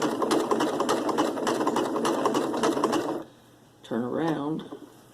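A sewing machine stitches down a coiled rope bowl in a fast, loud, even rhythm for about three seconds, then stops, and a person talks briefly.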